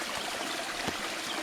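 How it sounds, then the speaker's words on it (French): Noisy flowing stream, a constant broadband rush and gurgle of water close by, fairly soft overall with no voices. "le ruisseau fait beaucoup de bruit"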